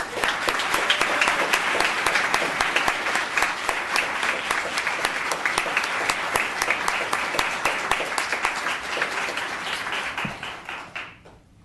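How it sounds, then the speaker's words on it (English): Sustained applause from an audience at a town council meeting, dense steady clapping that holds loud for about ten seconds and then tapers off at the end. "Another round of applause."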